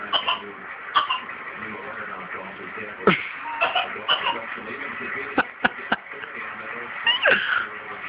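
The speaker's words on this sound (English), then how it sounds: "he's coughing too" Several short, sharp coughs come at irregular intervals, close and fairly loud, mixed with shuffling and a voice talking.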